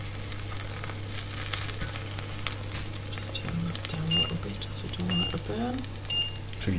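A sweet corn mixture sizzles gently in a pan, a low steady frying hiss with occasional stirring scrapes, partly under a mains hum and a few faint background tones.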